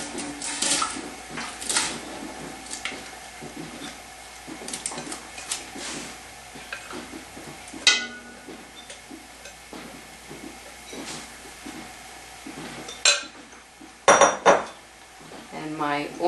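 Orange juice and rhubarb poured into a deep stock pot for orange rhubarb jam, with repeated clinks and scrapes of utensils against the metal pot, a sharp clatter midway and a cluster of louder knocks near the end.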